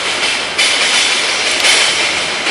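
A train passes close by in Kaohsiung, Taiwan, a loud, steady rushing roar of wheels and rail noise filling the whole clip, with a couple of brief surges, and no talk.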